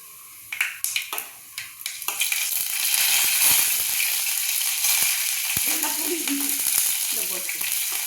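Curry leaves dropped into hot oil for a Tamil nethili meen (anchovy) kuzhambu crackle in a few sharp bursts, then settle into a steady, loud sizzle with light stirring scrapes near the end.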